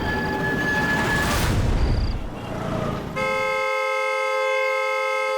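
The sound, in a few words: car horn honking nonstop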